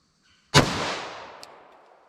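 A single close, sharp gunshot from a long-slide Glock pistol firing a .45 ACP round, with a sudden loud crack followed by a fading echo tail and a faint click afterward.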